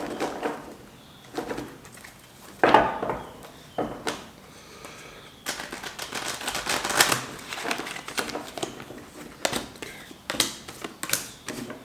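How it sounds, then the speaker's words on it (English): Someone shuffles a tarot deck close by, producing irregular bursts of card riffles and flutters and soft slaps, with short pauses between them. "No, I'm reshuffling."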